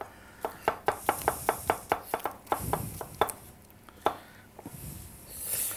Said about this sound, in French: je vais m'occuper d'hacher mes oignons